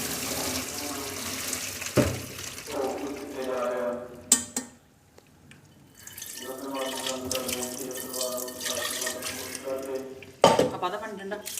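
Water from boiled pasta is poured off through a basket strainer, a running splash and trickle heard in two stretches with a short quiet gap between them and sharp knocks of the utensils.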